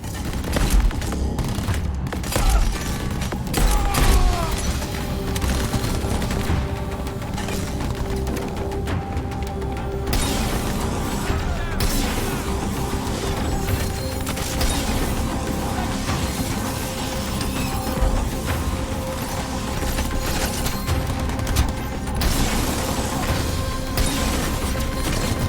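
A heavy Conqueror hand cannon fires repeatedly in the open-world game Crackdown 3, its punchy shots landing within a dense, continuous wash of combat noise, explosions and crashes.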